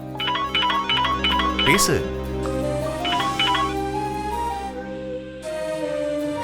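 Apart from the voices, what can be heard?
phone ringing with an incoming call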